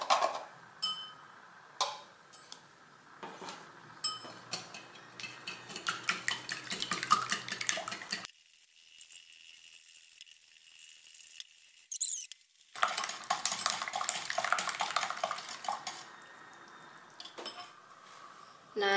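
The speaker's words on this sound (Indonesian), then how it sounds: "Ini akan kita aduk." Steady scraping and clinking of a utensil stirring thick mini martabak batter with melted margarine in a bowl by hand, close up, with a short break in the middle.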